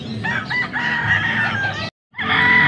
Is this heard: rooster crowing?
yes